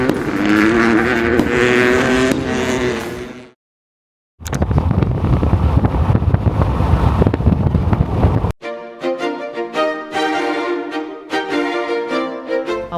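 A car races past quickly on a road in Villarrica, Paraguay, its loud engine roar and wind rush sweeping by close, then a brief gap before another roaring pass and a fading, rumbling tail.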